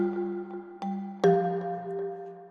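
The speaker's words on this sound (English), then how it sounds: "So it's a nice mallet sound," Hot Tropics mallet preset from Hybrid Keys in Kontakt: three soft struck notes with ringing, bell-like tails, spaced under a second apart, clear and alone.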